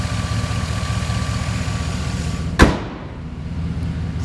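A 2013 Chevy Silverado 1500 Z71 4x4 with its 5.3-liter V8 idles nearby in a steady, low, even rumble, broken midway by one sharp click. No one speaks.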